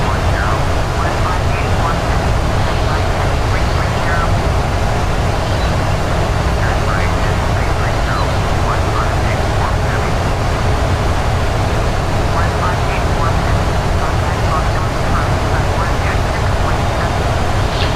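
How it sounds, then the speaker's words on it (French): Jet engines spooled down to reduced thrust in the PMDG flight simulator on a Frankfurt to London flight, giving a steady, loud, unbroken roar that stays constant throughout. "les réacteurs sont ralentis. Donc au niveau du bruit c'est bon"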